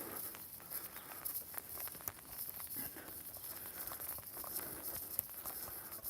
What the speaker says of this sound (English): It's actually starting to rain a little bit more.